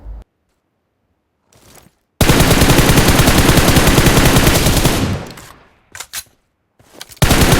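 Rapid automatic gunfire in a battle royale shooter game, one long loud burst of sustained fire followed by a few short separate shots after a pause, with no talking.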